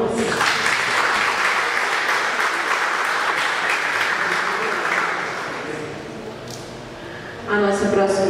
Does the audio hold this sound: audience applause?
yes